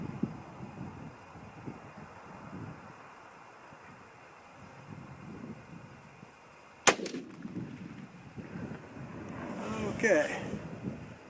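A single sharp, loud 6.5 Creedmoor rifle shot cracks out partway through, followed by a booming outdoor echo, with wind buffeting the microphone and a voice talking softly afterward.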